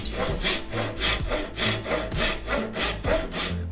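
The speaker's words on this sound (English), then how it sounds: "I'm rasping." A hand rasp worked over metal while fitting a tunnel panel on a 1960s Mini supercar build, giving a steady series of about eight loud, close scraping strokes in an even back-and-forth rhythm, with no voices.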